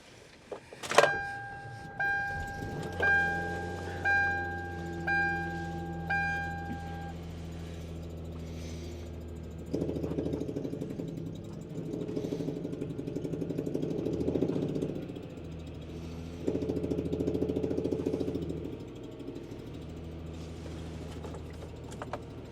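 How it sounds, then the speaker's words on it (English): A damaged car engine with a blown head gasket and a spinning rod runs roughly with a knocking, rattling mechanical rhythm, after a series of short whirring bursts; the engine revs in loud surges. "the head gasket blew, and you could hear the rod spinning around in there"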